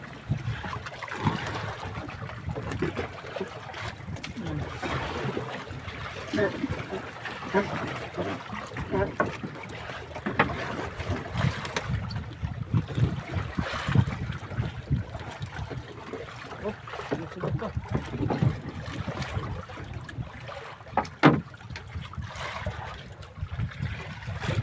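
A fishing boat with its engine off is paddled on open water during longline fishing, giving soft irregular splashes and water sloshing against gentle wind noise over about twenty-five seconds.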